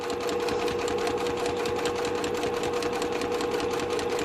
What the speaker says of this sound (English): So this is just more of a decorative top stitching.